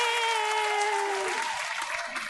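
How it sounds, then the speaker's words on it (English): A comedy call-in show's studio audience claps and cheers as a caller joins. Sustained tonal music plays along with it at first and then gives way to a broad wash of clapping that holds to the end. "give a huge round of applause so she can feel your energy at home"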